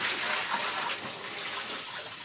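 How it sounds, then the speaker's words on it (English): Tap water rushes into a restroom sink to rinse out a mop bucket, a loud steady hissing splash throughout. "Rinse the bucket and the sink out."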